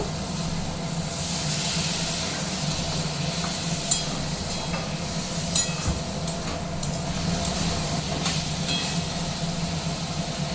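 Water poured into a hot pan of chicken paratha filling, giving a steady, close, continuous hiss and sizzle throughout with occasional faint clicks of a utensil, no talk.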